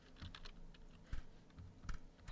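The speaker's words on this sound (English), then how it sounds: "Hold on, I'm typing something." Quick, uneven keystrokes on a computer keyboard, close and fairly soft, with a few heavier clacks scattered through a short burst of typing and no voices.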